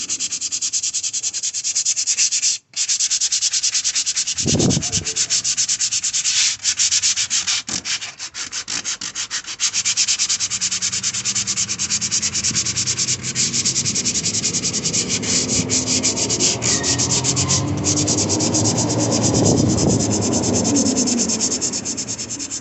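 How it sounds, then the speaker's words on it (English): 150-grit sandpaper rubs back and forth over a repaired plastic car bumper, making a loud, close, continuous scratchy hiss for about twenty seconds with only one brief break. "Gotta sand the edges, make sure it's really smooth, and get rid of all those little marks like the one right here."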